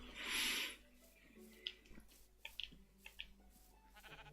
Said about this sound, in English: Here we have some sheep.